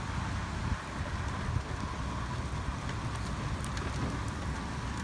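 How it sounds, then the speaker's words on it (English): Steady heavy rain from a severe storm in the Dallas–Fort Worth area of Texas drums on a car, with gusty wind noise buffeting throughout; dense and continuous, no voices. "The rain is picking up,"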